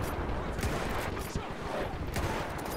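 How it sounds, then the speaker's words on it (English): Musket volley fire in a Mount & Blade Warband battle: dense, overlapping gunshots crackle continuously at close range, a loud ragged fusillade with repeated sharp reports throughout. "Let's see if I can shoot a few guys, maybe myself."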